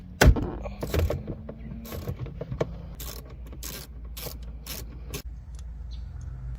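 Ratchet removing a stereo bolt in a Lexus RX350 dashboard, a series of sharp close clicking bursts with irregular spacing, some metallic clanks early on.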